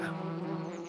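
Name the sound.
bee buzzing while collecting nectar from a flower, cartoon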